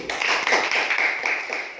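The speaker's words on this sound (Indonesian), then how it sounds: "Tepuk tangan untuk kelompok 1." Schoolchildren in an elementary classroom clap for a group in a brief burst of close, rapid hand claps, mixed with high children's voices.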